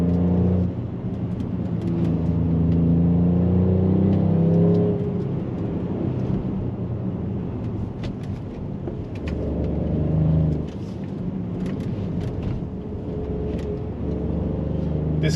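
A Mercedes GLE 43 AMG climbs a hill, its engine a steady low rumble with broad road and tire noise that rises and eases as it pulls up the grade, close and continuous with no talk.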